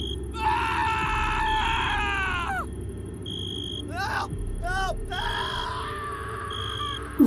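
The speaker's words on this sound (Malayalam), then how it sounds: "ഭദ്രസേനന്റെ അലറിക്കരച്ചിൽ കേട്ട് മുളങ്കാട്ടിൽ നിന്ന് കൂമരും നരച്ചീറുകളും ചിലച്ചുകൊണ്ട് പറന്നുയർന്നു." In a Malayalam horror story, a man's long, piercing scream is followed by shrill screeching cries of owls and bats from a bamboo thicket, loud and layered over a low rumbling background.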